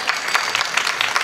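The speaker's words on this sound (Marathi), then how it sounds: "त्याच्यासाठी एकदा जोरदार टाळ्या." An audience claps together at a devotional kirtan discourse, a dense steady patter of many hands filling the whole moment at moderate loudness with no voices over it.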